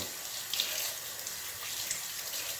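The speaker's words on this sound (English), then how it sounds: "start rinsing and washing this stuff off." Juicer parts of an Omega J8007 are rinsed under a running tap in a sink, a continuous near hiss of water splashing with a few brief drips.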